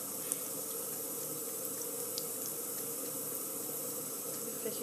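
Steady running water from a tap with a faint lapping as a cat drinks from the stream, quiet and continuous with no talk.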